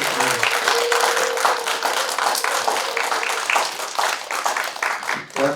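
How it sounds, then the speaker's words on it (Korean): An audience at a talk show event gives sustained, dense applause that fills the room, with a voice briefly heard near the start. "다시 한번 큰 박수 부탁드립니다."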